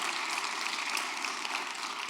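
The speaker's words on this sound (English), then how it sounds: "let's have a quick round of applause for our panelists" Audience at an infrastructure economic outlook event applauding its panelists, a dense, steady wash of clapping from a crowd, fairly even in loudness throughout the short burst with no voices on top.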